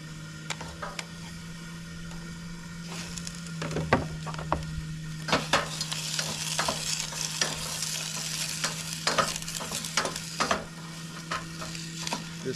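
Onions and red pepper frying in a pan on a camp stove make a steady, quiet sizzle with a constant low burner hum, broken by repeated scraping and clacking stirs of a utensil, with no talking.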